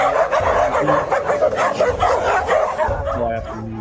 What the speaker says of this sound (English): Big, white, doodle-ish dog.